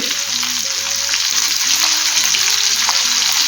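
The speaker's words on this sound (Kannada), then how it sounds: "ಒಂದು ನಿಮಿಷ ಫ್ರೈ ಆಗಲಿ." Masala-coated sardines fry on a tawa over medium flame with a loud, steady, close-up sizzle, while soft melodic background music plays beneath.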